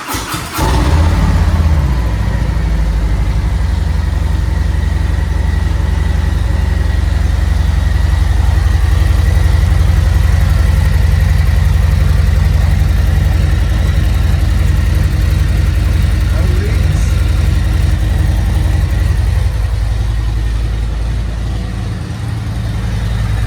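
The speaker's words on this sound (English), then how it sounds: "Now let's crank it up. And you really only have to crank it for like 5 seconds just to fill up that oil filter." A Harley-Davidson Road Glide motorcycle engine cranks briefly and catches, then settles into a loud, steady, deep idle that runs on close by with no talk over it.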